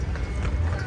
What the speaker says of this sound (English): Got actually some horses behind me right now.